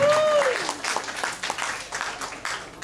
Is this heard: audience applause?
yes